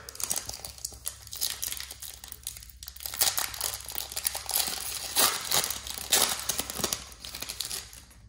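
Crinkly foil wrapper of a Pokémon card booster pack being torn open and handled, with continuous close crackling and rustling throughout.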